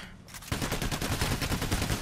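Rapid, continuous gunfire erupts in Payday: The Heist as players shoot at the heavily armoured Bulldozer enemy, a dense, loud barrage of overlapping shots that begins after a brief quieter moment.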